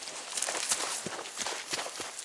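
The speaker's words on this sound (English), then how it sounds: "I hear your footsteps." Several close footsteps crunch in a quick, uneven rhythm over a couple of seconds, fairly loud with no voice over them.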